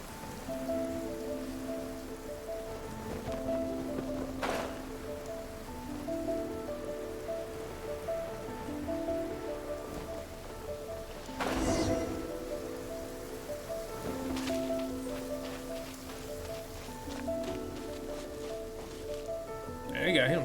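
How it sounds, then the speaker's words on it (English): Rain falling in the video game Genshin Impact, a steady patter on surfaces beneath tonal game music with a few brief louder splashes and bursts, no voices heard. "It's raining"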